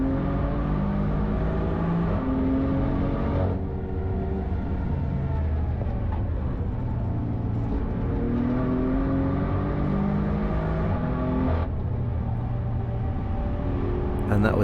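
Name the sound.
BMW M4 car racing on the Nürburgring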